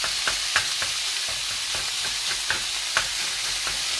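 Food fries in a pan over medium heat with a little olive oil, a loud steady sizzle with occasional scraping stirs, close and alone without talk.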